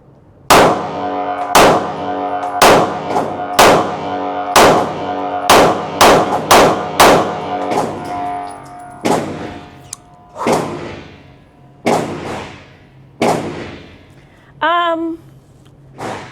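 A Springfield Hellcat Pro pistol is fired in a string of about fifteen sharp, loud shots with metallic ring, fairly regular at first and then more spaced out, with no talking.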